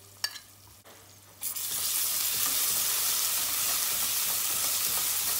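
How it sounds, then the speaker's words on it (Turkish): Tomato paste and pepper paste frying over very low heat for tarhana soup, a brief clatter and pause before a steady, loud close sizzle takes over and runs on alone. "Yine en kısık derecede domates salçasıyla biber salçasını bir kavuracağız."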